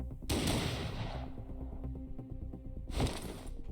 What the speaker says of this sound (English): The gunshot cracked through the air